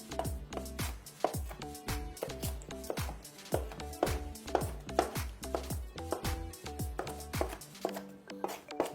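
Charred tomatoes and aromatics are roughly chopped for tomato choka, a quick, steady run of close knife knocks on a cutting board, one after another.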